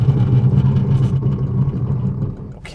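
Citroën E-C4 X electric car braking hard from 100 km/h, a steady loud low rumble of tyres and road noise that fades gradually as the car slows, with a brief hiss near the end.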